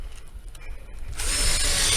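A screw gun drives screws into a ceiling stud through water-damaged drywall, with a brief close ratcheting clatter that swells into a loud steady whir of the driver.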